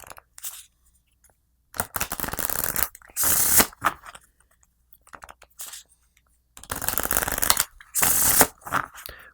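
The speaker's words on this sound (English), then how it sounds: "the rest of the cards can be shuffled up" Playing cards from the board game Century: A New World being shuffled, a few separate riffling bursts of crisp, close card noise broken by short quiet gaps, with no voices.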